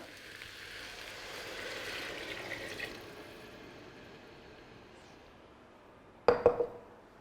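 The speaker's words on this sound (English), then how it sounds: "So we're going to add water." Water pours into a pot of spiced carrot soup, a soft rushing fill for about three seconds that fades, then a sharp clink of the pot near the end.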